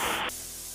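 A spray gun hisses loudly as it applies primer undercoat to a vintage 1935 Dodge car, the burst cutting off abruptly after a third of a second and leaving a low background hum.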